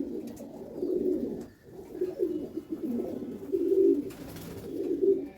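A pair of Kalanka Madrasi pigeons in a cage coo in low, rolling, repeated phrases, close and fairly soft, with brief pauses between bouts.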